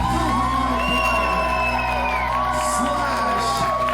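A concert crowd at a music hall cheers, whoops and shouts loudly and continuously, with sustained tones ringing underneath the noise.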